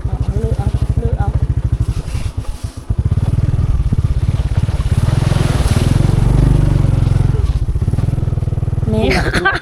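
A motorcycle ridden along a rough, rutted forest track, its engine loud and close in a steady pulsing drone that briefly dips and then surges back, with clattering from the bumpy ground.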